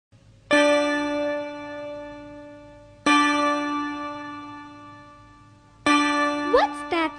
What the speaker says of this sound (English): What's that sound I hear? Oh, it's ding dong bell.